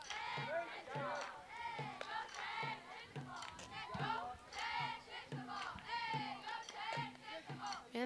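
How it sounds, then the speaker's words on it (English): Wildcats fans at a college softball game chant and cheer in a steady, rhythmic beat, with repeated shouted calls and claps from a close crowd, sustained throughout without commentary. "this cheering by the Wildcats has got me dancing up here in the booth"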